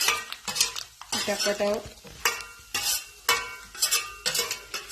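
Ginger, garlic and curry leaves hit hot oil for a Vasai-style kolim pickle, giving a loud crackling sizzle with repeated scraping stirs of a spoon against the pan, close up, and a brief spoken remark.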